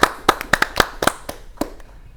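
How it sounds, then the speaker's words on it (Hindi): Scattered hand claps from a small quiz audience, about ten separate sharp claps spread unevenly over two seconds, close and fairly loud with quiet gaps between them. "जोरदार तालियां टीम ए के लिए"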